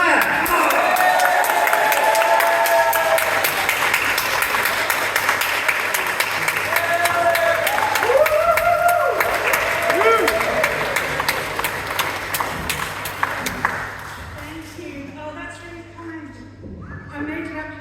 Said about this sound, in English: get this clapping going. Make it as loud as you possibly can.